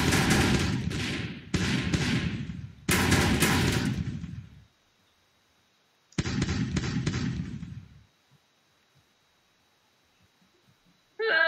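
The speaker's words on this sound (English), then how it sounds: "No, I just shot a load of bullets." Rapid bursts of gunfire from a Friv browser game, loud chattering volleys in several separate runs with silent gaps, ending in a brief final burst.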